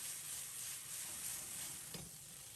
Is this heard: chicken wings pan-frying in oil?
yes